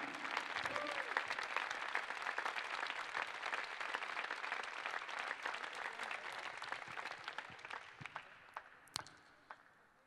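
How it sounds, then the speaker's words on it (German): Sustained applause from a crowd at a football club's player farewell, dense clapping that gradually thins out and fades into a few last claps. "Und deswegen bitte ich jetzt nochmal um einen kräftigen Applaus für Marlon Sündermann."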